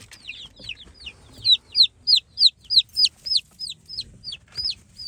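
Chickens in a backyard flock, with chicks being introduced, give a rapid run of about fifteen short rising chirps or clucks, evenly paced and fairly close, over faint low rumble.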